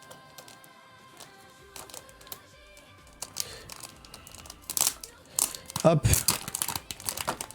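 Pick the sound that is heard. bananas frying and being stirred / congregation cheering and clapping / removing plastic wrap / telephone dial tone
removing plastic wrap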